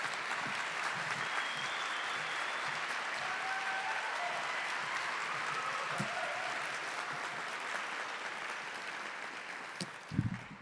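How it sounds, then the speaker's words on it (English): Sustained applause from a large memorial lecture audience, a continuous wash of clapping that fades slightly toward the end, followed by a brief thump. "Please give him a round of applause and welcome him to the stage."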